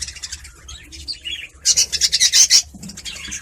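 A small colony of budgies, also called parakeets, chirps and twitters close by in rapid bursts, with one louder run of busy chirping in the middle.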